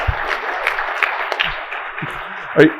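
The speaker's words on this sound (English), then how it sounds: "A lot of applause" Audience applause at an on-stage mortgage technology presentation, steady clapping filling the whole stretch at moderate level, with a brief louder voice near the end.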